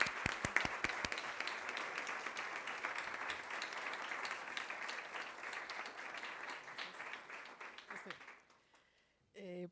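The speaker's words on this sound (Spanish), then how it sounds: "Recibamos con un fuerte aplauso" Sustained applause from an audience at a Jesuit university event welcoming the rector, dense clapping opening with a few sharp claps, then fading out, with a voice starting at the end.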